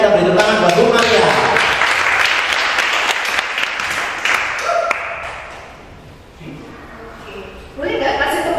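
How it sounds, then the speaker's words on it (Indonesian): Audience applause for someone speaker at an entrepreneurship event in Malang, steady dense clapping through most of the stretch, fading briefly and returning near the end, with voices talking over it at times. "kita beri tepuk tangan buat Bu Maria"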